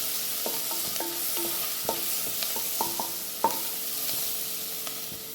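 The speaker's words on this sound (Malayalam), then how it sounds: "നമ്മൾ അരി ചെയ്യുന്ന ചേന ഇട്ട് കൊടുക്കാം" Chopped elephant foot yam and green chillies stir-fried in a pan, with steady sizzling broken by repeated scraping and clinking strokes of a spoon against the pan, close and moderately loud, with no talking.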